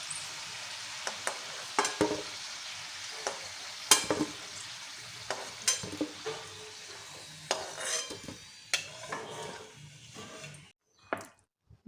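Jackfruit kofta frying in oil give a soft, quiet sizzle punctuated by irregular clinks and scrapes of a slotted spoon against the pan as pieces are lifted, close and without speech, ending in silence.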